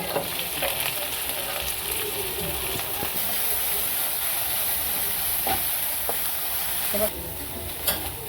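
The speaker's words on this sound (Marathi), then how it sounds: "आता मिरची लसूण चांगला भाजला, आपण कांदा परतून घेऊ" Onion frying in a pan with chili and garlic, a steady close sizzle and hiss with occasional stirring clicks, continuous throughout with no talk.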